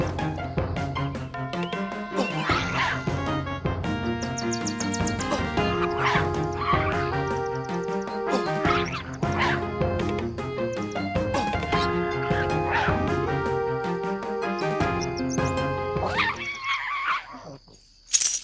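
Null pup creature in the Evercraft Online MMORPG barking and yipping repeatedly over loud continuous game music and combat effects, with a sharp crash at the very end.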